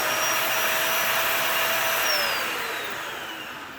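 A Dyson Ball Animal 2 upright vacuum cleaner with a clogged airflow runs loud and close, giving a steady strained whine that sags slightly in pitch toward the end.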